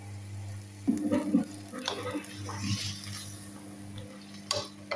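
Onion tipped into ground meat already cooking in a pan and stirred, with scraping and clinking of a utensil against the pan over a low steady sizzle, in a few short bursts.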